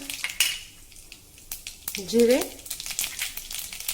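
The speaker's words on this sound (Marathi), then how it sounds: "जिरं मोहरी तडतडली की 2 मध्यम आकाराचे कांदे आपल्याला घालायचे आहे" Mustard and cumin seeds spluttering in about two tablespoons of hot oil in a kadhai (wok), with a steady run of sharp crackles and pops up close and a brief squeaky scrape partway through.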